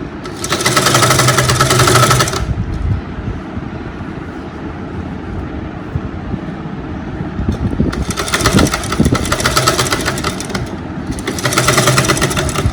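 An electric sewing machine stitching round the neckline of a lined blouse top, a loud, fast, steady whirr that runs in two long bursts with a quieter hum in between, no voices.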